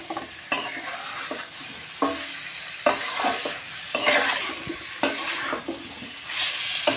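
Chicken pieces are sautéed and fried in a pan, sizzling loudly up close while a spatula stirs and scrapes in regular strokes about once a second, with no speech.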